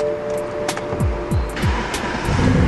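A white 2005 BMW 645Ci with its engine running, a steady car engine idle with a few rising whooshes, near and fairly loud.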